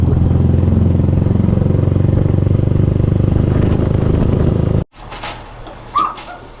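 A motorcycle engine idles loudly and steadily up close, then cuts off abruptly, leaving faint background rattles and a brief clatter.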